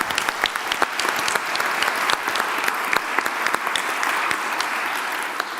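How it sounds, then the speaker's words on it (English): An audience claps steadily for several seconds, a dense, even round of applause that fades slightly at the end. "So if we can put a round of applause for the panel."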